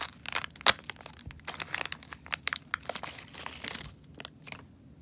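Plastic packaging holding five Puretone TS audio jacks is cut open for a passive two-channel mixer build: close, crackly crinkling and crunching in uneven bursts, with one sharp snap near the start and quieter rustling toward the end.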